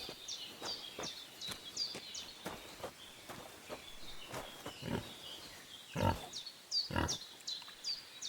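Pigs grunt in the video game Kingdom Come Deliverance 2, with repeated short rhythmic grunts and snorts, some louder than others, under a bed of chirping birdsong.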